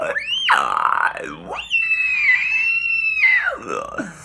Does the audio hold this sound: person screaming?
yes